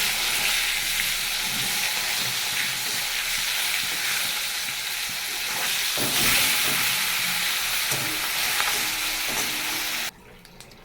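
Bangur fish fries in hot oil, a loud, dense, continuous sizzle and crackle heard close up for about ten seconds, with occasional soft clatter, before it drops off abruptly; no talking.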